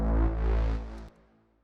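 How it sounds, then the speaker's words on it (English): A low, buzzing Serum synth growl bass with a gritty, harmonic-rich tone, holding steadily for about a second before cutting off into a faint tail. "I just added a growl bass, growl sound."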